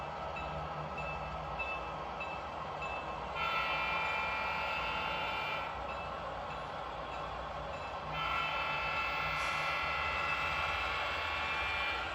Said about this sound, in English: we managed to catch the Clarion job leaving the yard with their outbound train